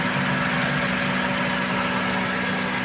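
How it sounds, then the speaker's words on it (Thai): A 2008 Honda Civic FD engine idles steadily at close range, a constant low hum with no speech. "เครื่องยนต์เดินเรียบเป็นปกตินะครับ"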